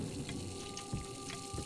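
Running water from a tap in the Layers of Fear horror game flows in a steady, faint stream, with a few soft knocks and clicks over a low room hum and no talking.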